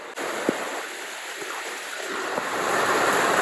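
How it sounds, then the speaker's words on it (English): Steady heavy rain hisses in a dense wash of noise over a garden with a rainwater harvesting system, with a few faint knocks and thumps underneath and no one speaking. "that is some serious rain"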